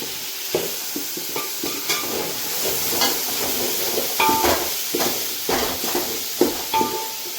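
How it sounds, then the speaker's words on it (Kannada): Capsicum and tomato hit a hot pan and fry for a boti gojju, giving a steady close sizzle with repeated scraping stirs and clinks of a spoon, and no talking. "ಇವಾಗ ನಾನು ಕ್ಯಾಪ್ಸಿಕಮ್ ಹಾಕ್ತಾ ಇದ್ದೀನಿ ಕ್ಯಾಪ್ಸಿಕಮ್ಮು ಜೊತೆಗೆ ಟೊಮೊಟೊ ಎರಡನ್ನೂ ಒಟ್ಟಿಗೆ ಹಾಕ್ಬಿಡ್ತೀನಿ"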